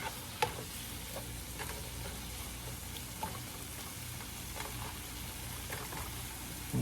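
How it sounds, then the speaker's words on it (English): Home fries sizzle steadily in a pan with a few scraping turns of a spatula, close and fairly quiet, with no talking. "as long as you get it flipped over, you want both sides to cook."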